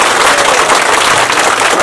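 Members at a general assembly of a drinking water users' committee clap to approve the committee, giving a dense, steady wash of loud applause from a crowd that holds for the full stretch with no talk.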